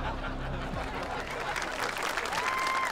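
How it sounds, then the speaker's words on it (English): Studio audience applause, a dense steady burst of many hands clapping close by, with a voice and some laughter mixed in beneath. "They're clapping for you."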